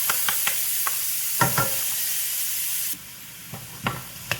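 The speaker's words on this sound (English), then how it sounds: "I'm using the same pot where I rendered the bacon to do that, and I'm going to go ahead and add all my vegetables" Vegetables hitting a hot pot in rendered bacon fat over medium-high heat for Manhattan clam chowder, giving a loud bright sizzle with spoon scrapes that drops to a quieter simmer partway through, with more stirring clatter after.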